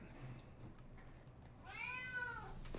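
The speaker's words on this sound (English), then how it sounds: "My cat is very chatty" A domestic cat gives a single drawn-out meow near the end, fairly close, over a low background hum, with no talking.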